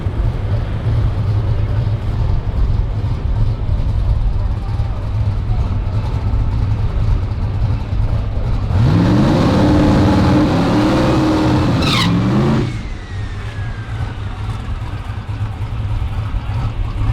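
Drag racing Mustang at a heads up drag strip event, its engine loud and steady then roaring hard in a sweeping rev for several seconds before cutting off, with crowd and track noise underneath and faint talk.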